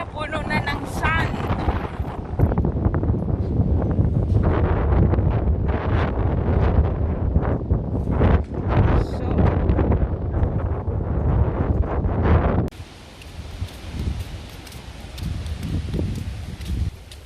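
Strong gusting wind on the beach and dunes at Maspalomas, Gran Canaria, roars loudly across the microphone for most of the time, then abruptly drops to a softer, hissier wind-blown background.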